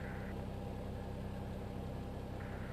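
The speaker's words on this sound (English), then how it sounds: "Listen to those engines." Jet engines of an A321XLR airliner idle at Rome Fiumicino in a flight simulator, a steady broadband whine and low rumble that holds evenly throughout with no voices.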